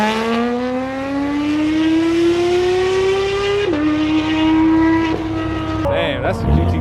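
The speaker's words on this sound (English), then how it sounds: "that's a GT3 RS sound like that" A high-revving Porsche GT3 RS engine howls loudly, its pitch climbing through gears with a brief shift drop, close and continuous.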